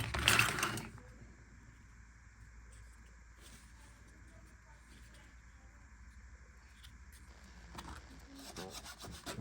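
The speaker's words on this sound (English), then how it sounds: "First I clean the inside with a small file and then chip away all the excess and level both surfaces." A small file rasps inside a leather and cork knife sheath, with quiet, steady scraping strokes after a brief louder handling noise.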